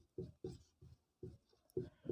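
A pen writes on paper while a maths problem about a sphere and a cylinder is worked out, giving short scratchy strokes in five or six separate bursts with brief pauses between, close and fairly quiet.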